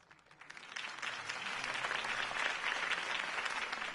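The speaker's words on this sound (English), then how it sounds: "could have heard that applause" Applause from a crowd in a Batman video game swells up from quiet and holds as dense, steady clapping, moderately distant, with no speech over it.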